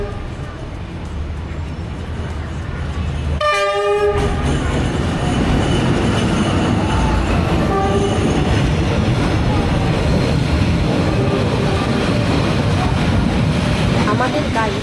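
An overnight train on the Hanoi to Sapa route rolls into the station with a loud, steady rumble of wheels and carriages, and a brief high squeal or horn burst near the start, with voices murmuring in the background.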